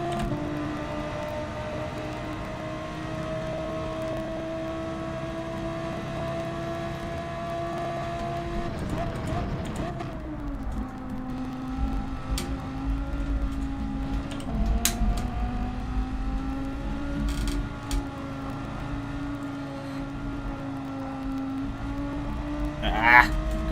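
Race car in Gran Turismo 7 holding a steady engine drone that dips and climbs through gear changes and corners, with a voice talking over it at times.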